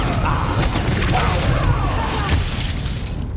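Booming Confringo spell blasts in Hogwarts Legacy, loud, heavy explosions with crashing, shattering debris during combat, dense and continuous, with faint voices mixed in.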